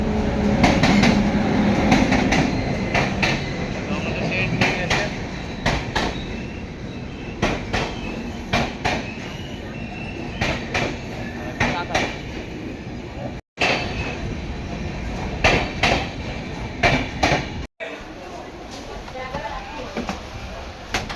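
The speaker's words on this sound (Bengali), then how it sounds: "এখন আমাদের ট্রেন ঢুকছে দেখতে পাচ্ছেন" A passenger train pulls into a station on the Rampurhat to Purulia route, with a steady rumble of wheels and carriages and rhythmic clatter running under nearby voices and platform chatter.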